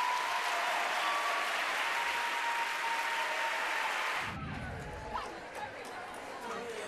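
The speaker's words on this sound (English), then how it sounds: "a huge round of applause for Tonbridge Grammar School" A concert hall crowd at a school choir competition applauds loudly and steadily, then the clapping drops away under talk and chatter.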